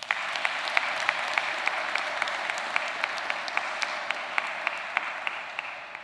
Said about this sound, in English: Kindly please give her a big clap.